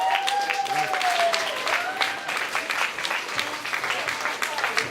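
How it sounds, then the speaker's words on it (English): Audience applause at a tribute event welcoming a man to the stage, dense sustained clapping with a tonal sweep and cheering voices mixed in, loud and continuous throughout. "please give a warm round of applause for the man himself"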